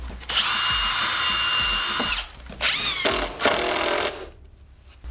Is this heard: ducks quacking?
no